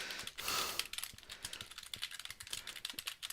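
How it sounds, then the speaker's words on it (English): Rapid, uneven clicking of fingers typing on a computer keyboard during live hurricane coverage, close and fairly quiet, with bursts of keystrokes and no talking. "So many tags I'm typing in right now."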